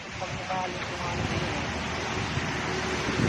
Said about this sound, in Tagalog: May mataas ang hangin oh.